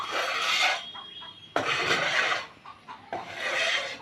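Husks are scraped and gathered across the floor while a farm shed is cleaned, three rasping sweeps in close succession, near and fairly loud, separated by short quieter pauses.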